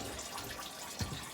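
Hot, black engine oil from a warm Toyota ST180 engine pours out in a steady, splashing, watery stream, close by and moderately loud, with one brief louder splash near the end.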